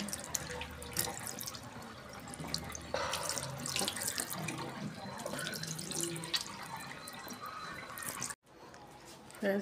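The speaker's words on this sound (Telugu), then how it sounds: "ఫేస్ వాష్ చేసేసుకున్నాను, ఇప్పుడు తుడుచుకుంటాను." Running tap water splashes into a sink while a face is washed, in steady close splashing and dripping. The flow breaks off briefly near the end.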